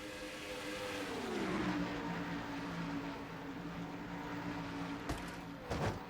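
Race cars from a NASCAR-style racing video game at Watkins Glen, a steady engine drone with a pitch sweep as the cars pass side by side, then brief sharp bursts near the end, no talk.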